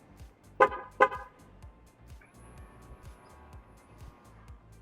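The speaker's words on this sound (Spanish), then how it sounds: "ahora cuando desbloqueamos las puertas, el claxon suena 2 veces" Car horn gives two short honks as the doors are unlocked with the remote, loud and close, followed by a low steady hum of traffic or idling engine.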